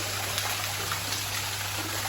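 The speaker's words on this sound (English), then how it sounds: "Beautiful waterfall." Steady broadband rush of a waterfall inside the tropical greenhouse at Kew Gardens, continuous and even, with a low hum beneath and no one talking.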